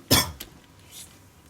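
A single sharp, close cough bursts out, followed by a softer breathy sound and then near quiet.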